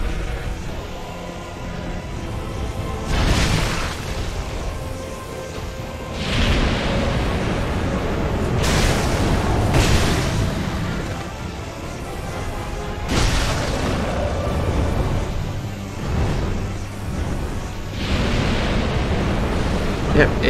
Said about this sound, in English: Does another fire breath, which is always weird.